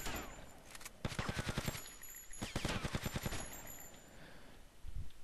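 Rapid bursts of submachine gun fire in GTA Vice City, two dense rattling volleys a second or so apart, loud and close, with fainter scattered shots around them and no talk over it.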